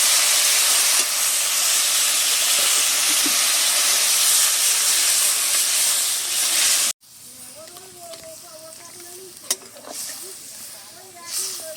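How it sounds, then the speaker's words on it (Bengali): Water poured onto hot, well-fried spice paste in a pan bursts into a loud, steady sizzling hiss for about seven seconds, then cuts to quieter cooking sounds with faint clinks. "মশলাটাকে বেশ সুন্দর করে কষে নিয়েছি, এবার জল দিয়ে দিচ্ছি।"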